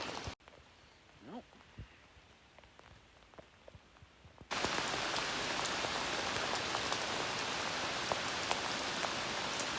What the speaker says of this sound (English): Now it is absolutely pouring outside right now.